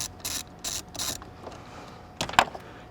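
A wrench loosening the battery terminal clamp on a Mercedes-Benz W213 during an AGM battery replacement, three short evenly spaced ratcheting bursts followed by a sharper metallic click and clunk, close and alone.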